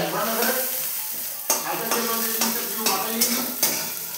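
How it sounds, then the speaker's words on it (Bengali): Gravy poured into a hot pan of fried onions for a drumstick, potato and eggplant curry, giving a steady close sizzle with a few sharp stirring scrapes and clinks at regular intervals. "কড়াইয়ের মধ্যে ঝোলটা ঢেলে বেশ কিছুক্ষণ ফুটিয়ে নেব।"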